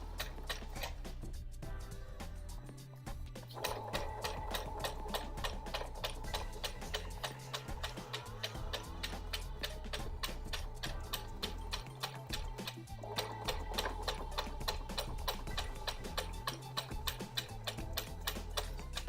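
Sewing machine stitching straight across cross-body bag pieces, a steady rapid ticking mechanical rhythm running near and continuous, with a brief pause early on before resuming at an even pace.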